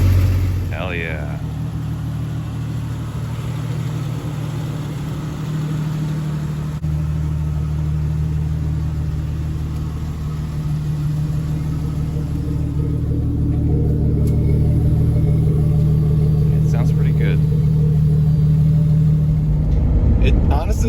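A Jeep Cherokee XJ with a new exhaust and muffler idles steadily close by, a low throaty rumble that swells slightly toward the end, with people talking over it.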